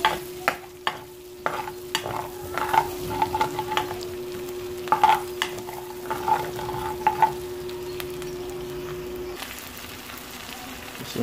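Ginger and garlic sizzle and crackle in a hot oiled pan while being stirred, with intermittent scraping taps against the pan over a steady frying hiss.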